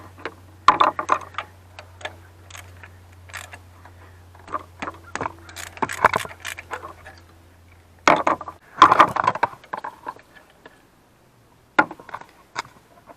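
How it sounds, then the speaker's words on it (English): A special socket and ratchet wrench work loose an exhaust pressure sensor on a Dodge Ram 6.7 diesel with a weak exhaust brake fault: sharp metallic clicks and ticks in scattered bursts, close up, with a low hum under the first part. "Put our special socket on there."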